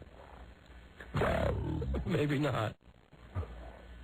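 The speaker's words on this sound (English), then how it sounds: "It says monster growling." A monster growling sound effect, a rough snarling growl in two loud bursts followed by a quieter grunt, with a voice speaking briefly between them.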